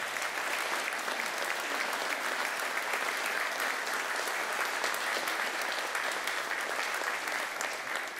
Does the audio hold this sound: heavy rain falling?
no